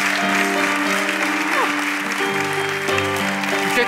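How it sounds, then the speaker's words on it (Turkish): Steady studio-audience applause fills a Turkish talk-show set. Several sustained tonal sounds and shifting pitched voices overlay the clapping for the whole stretch. "Alkışlat."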